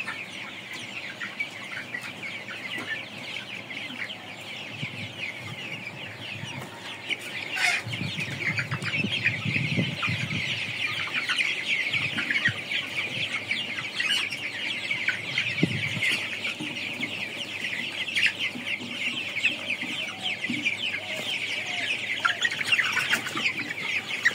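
Colored broiler chickens raised for meat on a poultry farm, many birds clucking and chattering continuously in a dense chorus, growing louder after the first few seconds, with no one speaking.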